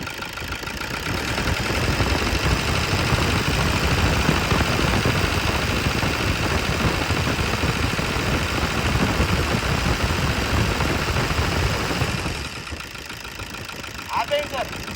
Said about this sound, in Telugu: సార్ కొంచెం రేస్ చేయండి సార్.